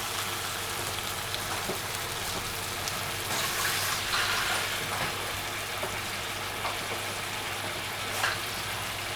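Meat fries in a small pan, a steady crackling sizzle with scattered pops that keeps up evenly for several seconds and is heard close up with no talk over it.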